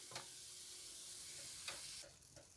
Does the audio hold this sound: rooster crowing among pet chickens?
no